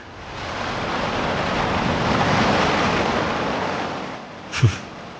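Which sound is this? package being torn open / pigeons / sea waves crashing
sea waves crashing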